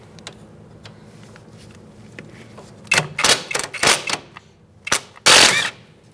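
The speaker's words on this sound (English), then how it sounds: "I'm going to use a 12mm socket and take out this bolt." A ratchet with a 12mm socket backs out a bolt during rear strut mount replacement on a 2002-2006 Toyota Camry: quiet at first, then several loud, close bursts of rapid clicking in uneven spurts.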